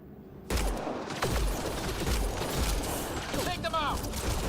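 Gunfire in the video game Mass Effect: Andromeda, a sudden onset of rapid shots and mechanical clatter over a battle din, with character voices speaking among the shots.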